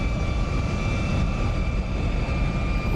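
Inside a simulated SR-71 jet cruising over Germany near 80,000 feet in DCS, a steady, dense engine roar runs without a break, with faint constant tones above it and no talk.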